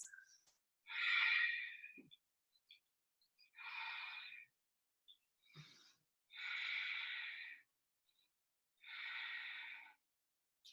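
Slow, deep breathing during a yoga crescent lunge: five long audible breaths, each a soft airy rush lasting about a second, spaced evenly with quiet gaps between, close and fairly faint.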